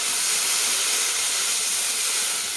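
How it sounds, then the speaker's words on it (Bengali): Marinated fish sizzles in hot oil over a low flame, giving a loud, steady hiss that continues evenly from start to finish. "সেগুলো আমি একটু ওই তেলে ভেজে নেব।"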